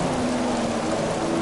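Steady rain hiss in a McLaren racing video game, a dense, even wash of falling drops with a faint low tone underneath and no voices.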